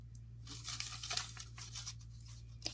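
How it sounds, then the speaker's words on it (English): Scissors snip a small slit into paper for a recycled pinwheel, a close, soft crinkly cutting sound with light rustling over about three seconds and no talking. "And then just make a tiny little slit, just enough to get that brad in there, but not very far."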